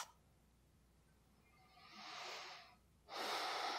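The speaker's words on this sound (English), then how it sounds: "Deepen your breath." Deep breaths during a vinyasa yoga flow, a quiet inhale followed by a louder, airy exhale, heard close in an otherwise hushed room.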